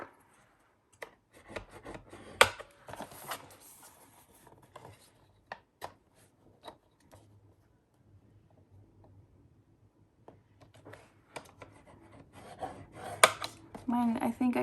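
Paper being scored along a score line for a sunflower folio: faint, intermittent scraping strokes in short bursts with quiet gaps, ending in a denser run of rasping rubs.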